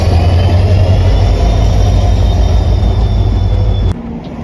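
A Konkan Railway train runs through a crowded district station, a loud continuous rumble of wheels and carriages with a low engine drone that stays steady, then drops suddenly near the end.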